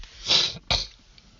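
A single sharp sneeze from a man, a breathy intake swelling into an explosive burst, then a quieter sniff-like tail, close and alone with no talk.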